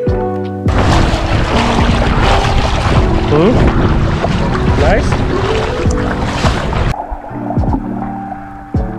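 A boat engine roars loudly close by for several seconds off a beach in Sardinia, with splashing water and wind, then drops to a quieter idle.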